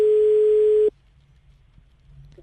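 A telephone line tone plays during a call, a steady unbroken pitched tone that cuts off abruptly. Quiet line hiss follows, then a faint click.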